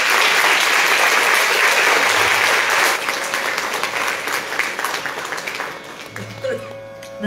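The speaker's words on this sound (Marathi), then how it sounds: "त्यांच्यासाठी जोरदार टाळ्या वाजवल्या" A seated audience claps loudly for a female singer after a devotional song, the applause dense at first and gradually thinning, with a few voices and scattered claps lingering as it fades.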